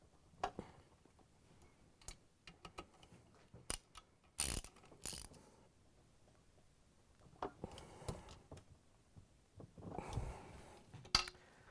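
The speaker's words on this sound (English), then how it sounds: "we can grab the ratchet with the extension and the number 3 Phillips bit, and we can tighten these down" Ratchet with an extension and No. 3 Phillips bit tightening screws into the drive motor housing of a Whirlpool/KitchenAid/Maytag washer; scattered quick clicking bursts and short mechanical clatters, close by, with no talking.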